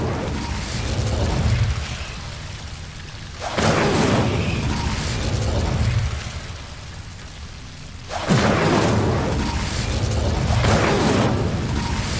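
Incendio fire spell cast in the Hogwarts Legacy video game: two loud, sustained whooshing roars of flame, each bursting up abruptly and rumbling for several seconds over a steady low background.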